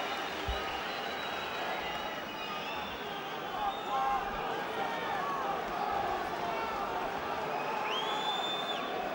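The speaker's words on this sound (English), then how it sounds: "And now the crowd raise their voices once again." A big boxing crowd at a WBC super-middleweight title fight between Carl Froch and Jean Pascal cheers loudly, a sustained roar of voices with whistles and shouts that keeps going while a commentator talks over it.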